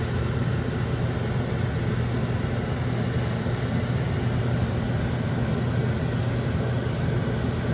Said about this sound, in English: Sorry about the noise from the exhaust fan